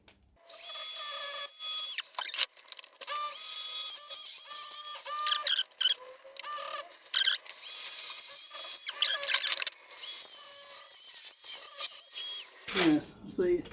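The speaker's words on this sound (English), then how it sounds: "going to cut those tack welds off" A grinder cutting off tack welds, high-pitched whining bursts that start and stop repeatedly, loud and close, with brief gaps between cuts.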